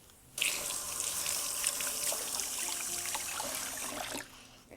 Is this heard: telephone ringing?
no